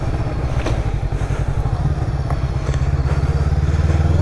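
A Daytona Rockstar 500 adventure motorcycle being ridden, its engine thumping in a fast steady rhythm, loud and close, with some rattling and clatter mixed in.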